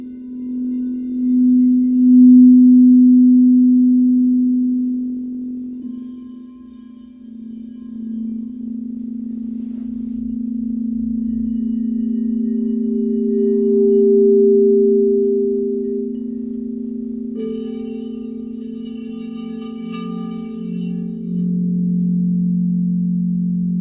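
A Crystal Tones set of seven crystal singing bowls rings out in sustained, pure tones, one steady hum swelling and overlapping with higher bowls joining partway through, loud and continuous with no talking.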